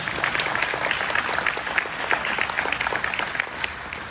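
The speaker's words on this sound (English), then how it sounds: "y'all need to give Jonathan a round of applause" A crowd applauds steadily at a DeKalb County, Georgia sheriff's debate, many hands clapping in a dense, sustained wash that stays loud and even for the whole stretch.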